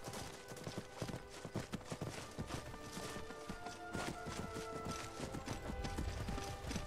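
Hooves clip-clop in a quick, steady gallop rhythm while riding a horse in Skyrim, fairly close and continuous with no talking over them.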